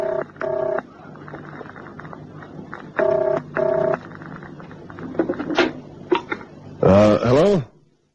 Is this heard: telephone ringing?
yes